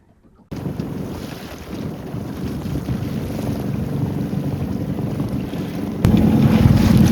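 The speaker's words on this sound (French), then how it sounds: "Je commence à entendre le bruit sous la carène, ce qui veut dire que voilà, on avance pas trop mal." Water rushes steadily under the hull of a moving sailboat, a continuous close wash with heavy wind buffeting on the microphone, growing slightly louder near the end.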